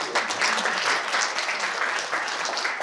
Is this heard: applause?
yes